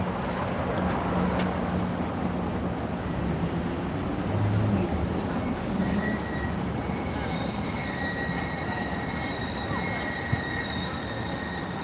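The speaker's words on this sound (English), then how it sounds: "Actually, there's one train right there." A train rumbles past at moderate distance in downtown Toronto, a broad steady roar with rising metallic whines and a few sharp clanks early on.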